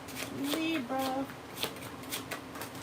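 A tarot deck is shuffled by hand in quick riffling bursts, brisk papery flicks and slaps repeating under a person talking.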